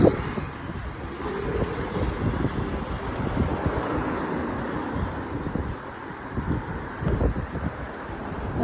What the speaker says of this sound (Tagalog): Mahangin, pero hindi naman ganun kalamig.